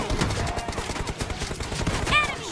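Gunfire in PUBG Mobile team deathmatch, a rapid burst of sharp shots with dense clattering reports over two and a half seconds, mixed with game sounds.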